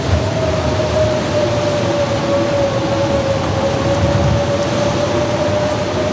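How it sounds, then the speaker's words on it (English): A storm in The Long Dark sweeps in as a steady, loud wash of wind and rain-like noise with a faint sustained tone running through it, constant throughout and with no talking. "Whoa, have a storm coming."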